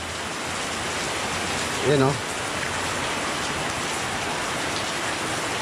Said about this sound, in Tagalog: Yun ang kalaban natin, yung ulan.